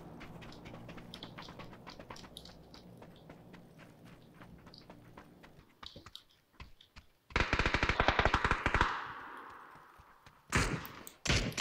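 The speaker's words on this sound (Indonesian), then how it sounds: "terjadi kontak senjata" Gunfire exchange in the PC battle royale game PUBG: quiet ambient footsteps first, then a loud burst of rapid automatic fire, a pause and another short volley, close and crisp with no talk.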